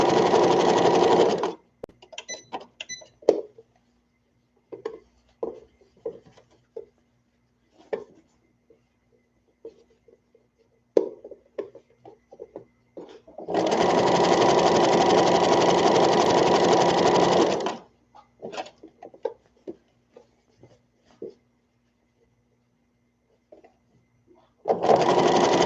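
A sewing machine stitches the sleeve of a toddler peasant dress in two sustained, steady whirring runs with a third starting at the end, separated by quiet stretches of faint handling clicks and fabric shifting.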